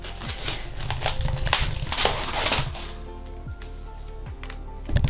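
A book parcel is unwrapped by hand, its packaging crinkling and crackling in busy bursts, with tearing and rustling that loosens into sparser handling noises and soft taps toward the end.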